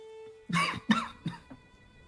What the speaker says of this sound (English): Easter kind of recoils when he coughs.